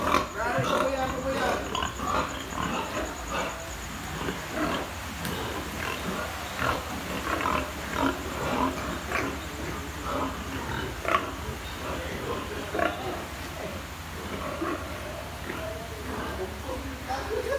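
Pigs grunt and snort steadily at close range on a farm, with piglets among them, a busy layered chorus running throughout with a low hum underneath and people talking over it.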